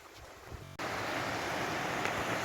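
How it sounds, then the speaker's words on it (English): Water of a cascading river section on an upland walk, a steady broadband rush of flowing water, fairly close, with some wind over the microphone. "It's just a really cascading river section."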